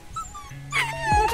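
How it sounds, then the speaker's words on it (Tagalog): A dog on a path near a Camotes island beach gives a short, high whimpering whine, thin and fairly close, rising near the end with a brief yelp-like burst. "Ay, may aso."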